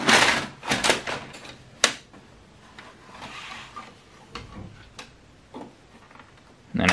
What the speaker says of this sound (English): we can load paper into the paper tray